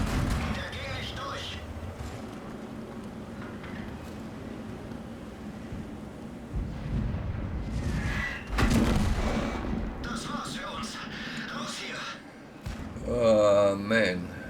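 Heavy tank cannon booms from World of Tanks firing gold ammunition, a few deep thuds mixed with engine rumble and game effects, with someone talking over much of it.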